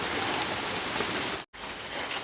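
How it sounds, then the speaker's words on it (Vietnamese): Heavy rain pours down continuously, a dense and loud hiss that cuts out for a moment and then comes back. "Mưa quá rồi."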